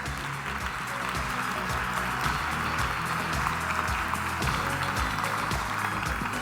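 An audience claps for a presenter walking on stage at a GEOINT 2021 tradecraft competition. Broad, sustained applause runs through the whole stretch, even and fairly loud.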